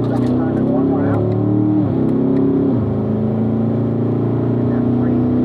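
A Corvette engine revs steadily on a race track during a driving school session, a loud continuous drone that shifts pitch as the car changes gear, with a voice talking over it.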